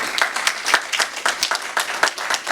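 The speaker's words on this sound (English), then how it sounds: "A warm round of applause." Audience giving a warm round of applause for an artist and his family, a fairly close crowd of clapping with distinct sharp claps standing out in an uneven rhythm throughout.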